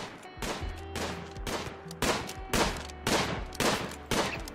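Gunshots fire in the video game RimWorld in a steady, rapid series of sharp cracks, roughly two per second, loud and close.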